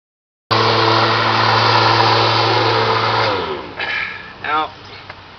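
A lawn mower engine runs loud and close with a steady harmonic drone, then cuts out and winds down after about three seconds, leaving faint rustling and a brief voice.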